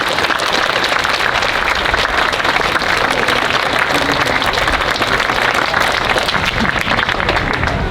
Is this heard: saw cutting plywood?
no